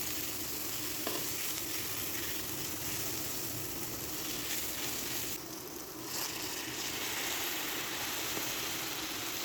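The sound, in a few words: ginger garlic paste frying with onions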